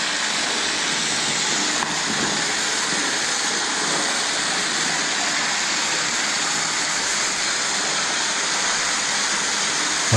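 A waterfall in a horror game roars as a steady, loud broadband rush of falling water, unbroken for several seconds with no voices on top.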